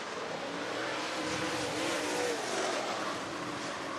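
A race car lapping at Swainsboro Raceway in Swainsboro, GA, its engine a steady, moderately distant roar that swells slightly as it passes mid-lap, continuous with no voices.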